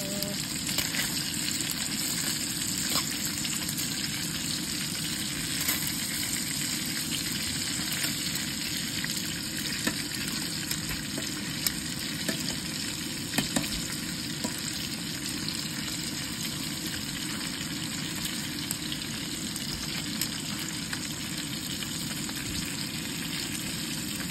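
Lechon kawali pork chunks deep-frying in a pan over medium fire, a dense, steady sizzle and crackle with occasional pops, close and continuous, with no talk.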